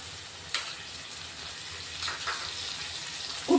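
Finely chopped tomatoes sizzle in a pan of frying onion and garlic, a soft steady hiss of hot oil with a few brief crackles and a clink at the end.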